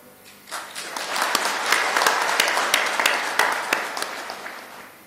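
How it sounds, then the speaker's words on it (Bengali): Audience applause for a police force at a public address: a dense, sustained crowd clapping that swells in after a quiet start and holds steady and loud to the end, with no speech over it. "সবাই মিলে আপনার জোরে হাততালি।"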